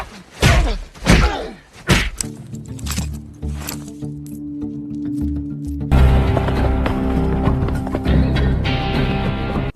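Horse hooves clip-clop in a Western sci-fi film scene, a rider heading into a nearby frontier town. Several sharp hoof strikes come early, then a steady bed of film music and ambience carries on underneath.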